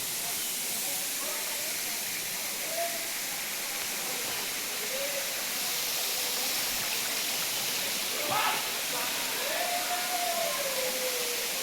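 A waterfall in Maharashtra roars with a constant hissing wash of water, with a few faint higher tones drifting over it and no talk.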